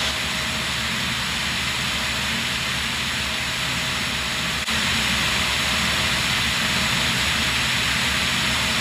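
Steady, loud engine drone from a Cirrus SR-20 light airplane flying in close formation, a continuous broadband roar with a low hum that stays level and unbroken throughout, with no voices.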